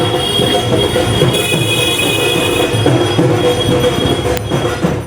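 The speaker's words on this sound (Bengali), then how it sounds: "এবার আমরা চলে এসেছি আবারও মেট্রো স্টেশনে" Kolkata metro train at a station, a loud sustained rumble of wheels and carriages with high squealing tones from the rails, continuous and close, no voices.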